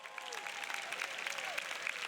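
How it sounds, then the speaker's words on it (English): A conference audience at a corporate training event in Asia applauds new attendees, a steady wash of many hands clapping for about two seconds, fairly loud and even with no voices rising above it. "Give all the new people a round of applause."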